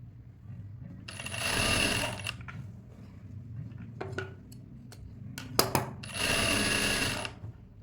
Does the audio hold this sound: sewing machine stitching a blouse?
yes